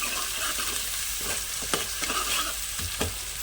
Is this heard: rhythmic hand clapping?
no